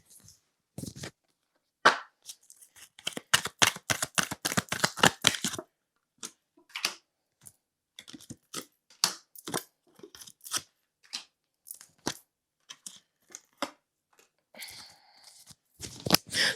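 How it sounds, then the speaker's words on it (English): Tarot cards shuffled by hand in a series of quick crisp riffling bursts, dense around the middle then scattered clicks and flutters, close and fairly quiet with no talking. "Let me shuffle one more time."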